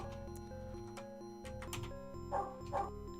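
A dog barking in the Call of Cthulhu: Shadow of the Comet video game, two short barks near the end over steady game music, no talking.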